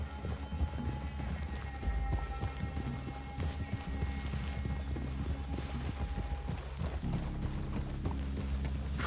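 Horses' hooves clip-clop in Red Dead Redemption 2, an irregular stream of soft thuds from several horses moving over ground, mid-distance and continuous under ambient game sound and a low background tone.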